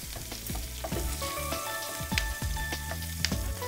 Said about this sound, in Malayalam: ഇതേ ഓയിലിലേക്ക് തന്നെ നമുക്ക് സവോള, സവോള ഒന്ന് വഴന്ന് അതിലേക്ക് കാപ്സിക്കം ഇട്ട് കൊടുക്കാം.